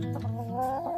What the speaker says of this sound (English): I'm going to head over and see what's happening with my hens.